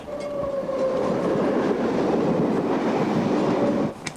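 Steady rumble and rhythmic rail clatter of a moving train heard from inside a carriage, loud and continuous, with no talking.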